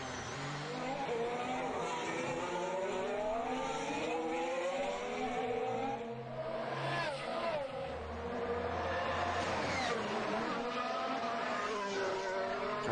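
Formula 1 cars in practice at the Monaco Grand Prix scream past one after another, engines rising and falling in pitch with gear changes, some near and some more distant, with brief low commentary in the background.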